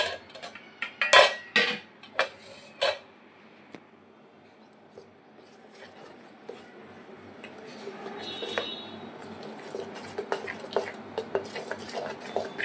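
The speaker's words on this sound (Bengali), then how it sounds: "1 চামচ দই মিশিয়ে দিতে হবে।" Yogurt, turmeric and gram flour stirred into a batter for chilla: a few sharp spoon-on-bowl clinks at first, then softer, continuous mixing sounds close by.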